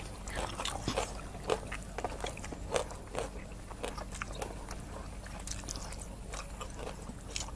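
Quiet, close chewing and biting on steamed herbal free-range chicken, with irregular soft crunches and wet mouth clicks spread across several seconds and no talk.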